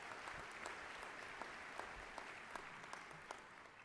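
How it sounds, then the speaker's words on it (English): Audience applause at an awards ceremony, a steady wash of many hands clapping with sharper individual claps popping through, sustained and fairly distant across the whole stretch. "Would you all please stand and let the audience give you a little applause?"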